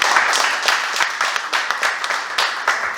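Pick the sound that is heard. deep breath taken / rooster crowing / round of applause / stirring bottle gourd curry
round of applause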